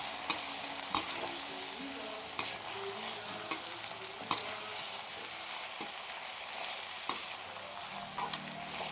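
Brinjal and thick green chillies fry in oil for vangi bath. A steady, moderate sizzle runs throughout, punctuated at irregular intervals by sharp clacks of a spatula against the pan.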